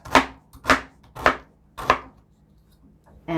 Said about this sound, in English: I actually cut it in half again and cut them into chunks